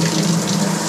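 Hot water gushes steadily from a shower tap in a renovated Romanian farmhouse bathroom, a loud, continuous hiss close up with no talking.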